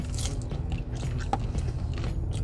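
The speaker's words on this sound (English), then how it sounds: "There's a lot of chewing." Close, loud crunching and chewing of salad, with irregular bites and moist mouth noises packed over a few seconds and no talking.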